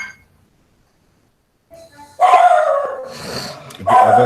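A dog barks in a home during an online algorithms lecture. Near silence gives way to loud, close barking in two bursts with a short yelping gap between.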